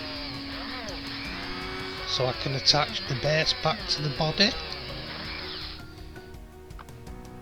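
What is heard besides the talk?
power drill drilling out model body posts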